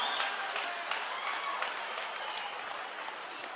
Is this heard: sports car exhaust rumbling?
no